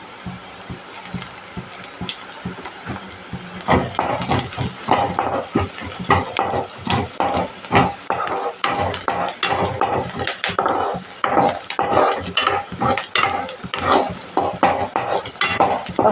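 Green chillies, onions and turmeric fry in a pan for street-style Maggi masala while a spatula stirs, making a steady run of scraping and clinking strokes with faint sizzle, quiet at first and busier after a few seconds.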